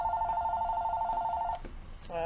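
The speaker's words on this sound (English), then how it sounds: "I'm sorry about that phone call" An indoor telephone gives a steady pulsing electronic ring lasting over a second and a half, then stops; a voice briefly starts up at the very end.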